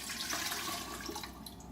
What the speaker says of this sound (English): we're going to take it and pour it in our kettle